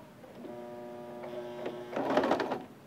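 A sewing machine stitches a seam on a shirred summer dress, a steady mechanical whir with a tonal motor hum that builds into a louder, busier rattle near the end, close by with no speech.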